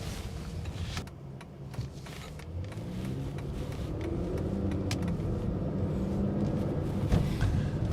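An Aston Martin engine heard from inside the car while driving on the road, a low rumble that swells as the car gains speed, with a steady road-noise backdrop and a few light clicks.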